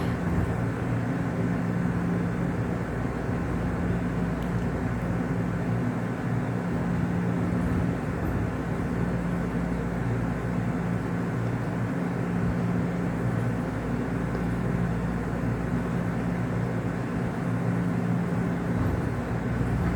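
An airplane passes high overhead during a Fourth of July night, a steady distant engine roar that holds evenly throughout with no other sounds on top.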